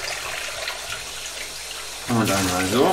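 Water rushes steadily through the valve of a tuba being rinsed during cleaning, a constant hiss lasting about two seconds before a voice starts talking over the fading flow.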